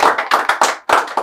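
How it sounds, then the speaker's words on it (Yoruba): A small studio audience on a Yoruba-language game show claps in a quick, loud burst of applause. The claps come close together in short rhythmic bunches with a brief gap near the end. "ẹ bá mi pàtẹ́wọ́ fún wọn"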